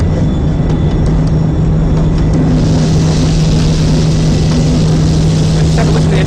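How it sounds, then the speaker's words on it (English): A ship engine starting up as a game sound effect, a loud, constant low hum and droning rumble that grows denser partway through and keeps running without a break. "And the engine will start to come to life."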